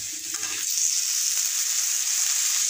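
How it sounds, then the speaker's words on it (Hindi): Tomatoes are added to golden-brown onions frying in a pan, and a loud, steady sizzle surges and then holds close up, with a light stir-like scrape at the start. "हमारा प्याज गोल्डन ब्राउन हो चुका है तो अब हम इसमें टमाटर ऐड करेंगे।"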